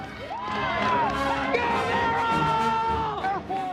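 Friends cheer for a woman cyclist racing laps in a Division II women's criterium with a college cycling team, their high, excited shouts and whoops rising together close by, loud and sustained for several seconds.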